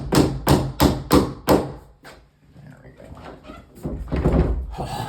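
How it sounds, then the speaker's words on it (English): A hammer strikes a mudroom door under repair: four loud, evenly spaced blows in quick succession, then a pause and softer knocks and rumbling handling noise, all close up. "and now I'm gonna hammer on it"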